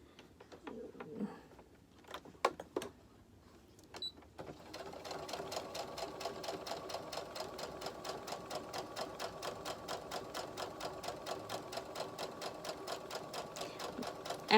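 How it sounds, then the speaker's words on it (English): A sewing machine, set to a slowish speed, starts after a few soft clicks and handling noises, then stitches fabric steadily at a moderate, even rhythm, close and clear. "I have my speed on my sewing machine set a little bit slow."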